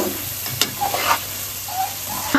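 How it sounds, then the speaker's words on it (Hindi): Chicken frying in masala in a karahi, with a continuous close, loud sizzle and a few brief stirring scrapes over a low background hum. "अभी हम उसे डाल देंगे चिकन। ठीक है, थोड़ा सा भूनेंगे"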